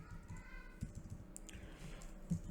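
Quiet clicking of keys being typed on a computer keyboard, a few scattered soft taps at low level with no speech.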